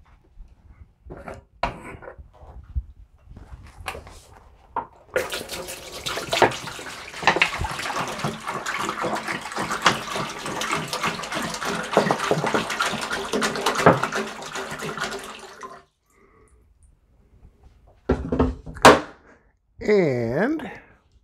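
Water runs from a tap into a cleaned sink in a steady splashing stream for about ten seconds, followed by a few clunks and a voice speaking.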